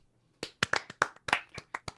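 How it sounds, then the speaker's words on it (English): About ten light, separate hand claps, crisp and close, come in an uneven rhythm from a single person on a remote podcast call rather than in a studio. "Light applause because we're not in studio."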